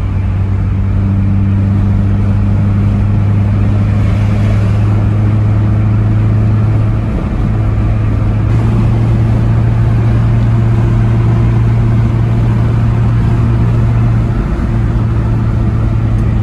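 A modified exhaust on a BMW E30 drones steadily while cruising in 5th gear, loud and close throughout, with a continuous low engine hum that shifts slightly in pitch a couple of times and no voices.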